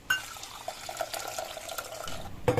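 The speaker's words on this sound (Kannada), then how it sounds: "ಕಡಲೆಬೇಳೆನ ಚೆನ್ನಾಗಿ ಒಂದ್ಸರಿ ನೀರಲ್ಲಿ ತೊಳೆದು" Chana dal is rinsed in water in a kitchen, a quiet splashing and trickling with small clinks from the vessel, ending in a brief louder slosh.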